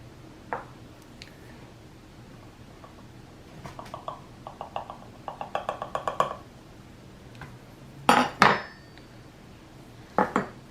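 A knife is picked up from a kitchen counter during chocolate pie making, with scattered light metallic clinks and taps, a quick run of small rattles, then a couple of sharper clatters near the end.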